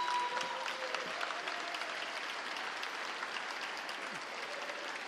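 Attendees at the Missouri State-of-the-State address applaud the Secretary of State's introduction, a steady, moderately quiet wash of clapping that carries evenly through, with a faint voice near the end.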